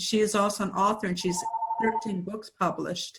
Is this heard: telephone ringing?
yes